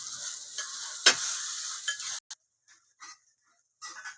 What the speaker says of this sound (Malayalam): ഇനി എല്ലാം കൂടി ഇളക്കി ഇത് നല്ല പച്ചമണം മാറുന്നത് വരെ ഇളക്കിയെടുക്കണം.